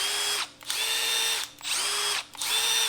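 A Milwaukee M12 Fuel impact driver with an XC battery runs in three loud, close bursts, each a high whining motor tone with hammering rattle, separated by brief pauses.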